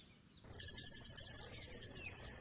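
A small prayer bell rings as food is offered to a deity at a holy man's shrine, a bright, sustained metallic shimmer that starts suddenly after a quiet moment and rings on steadily.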